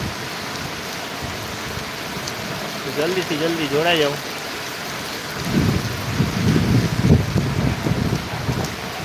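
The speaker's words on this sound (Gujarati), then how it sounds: "વરસાદ બહુ સારો પડી રહ્યો છે" Steady heavy rain pours throughout at a marketing yard in Gondal, with a low rumble of thunder building near the end; someone speaks briefly over the downpour.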